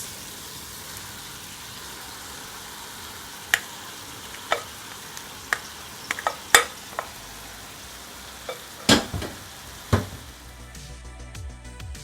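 Vegetable fried rice stir-fried in a hot pan, a steady low sizzle with scattered sharp clinks and scrapes of a utensil against the pan, no voices.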